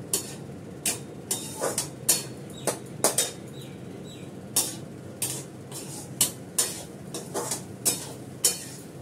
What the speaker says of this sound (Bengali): একটু নাড়াচাড়া করে নামিয়ে নেব।